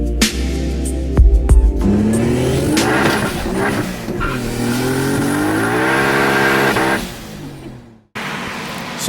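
A Dusty clone car with cams and HKS 2530 turbos revving hard on a dyno, the engine climbing through rising pitch sweeps at close range, then cutting off abruptly before a brief restart.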